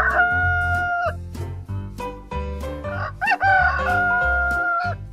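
A rooster crows loudly and up close, giving two long drawn-out calls in succession with a short break between them.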